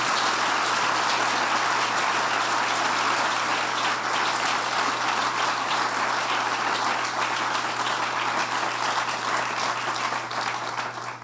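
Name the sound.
audience applause after keynote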